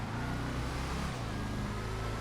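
A Tampa car engine in the GTA FiveM racing game gives a steady, close, low droning rumble that holds evenly for the whole stretch with no voices over it.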